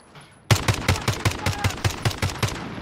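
Automatic gunfire in the video game Warzone: after a brief quiet moment, a rapid, evenly spaced burst of about a dozen sharp shots, loud and close, continuing to the end.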